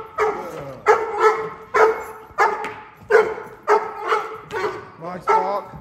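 A six-month-old Slovakian mastiff puppy barks loudly and close by, about nine deep barks in a steady, evenly spaced rhythm, under light background talk.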